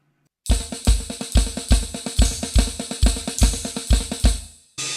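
A drum kit plays flams between the right cymbal and the snare, about ten evenly spaced, loud, close hits in a fast steady pattern, each cymbal crash ringing with a bright wash before the next.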